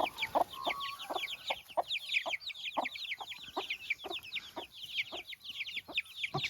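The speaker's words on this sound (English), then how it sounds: "The chicks are being very noisy." Busy chirping from chicks close by, rapid short calls overlapping almost continuously with no one speaking.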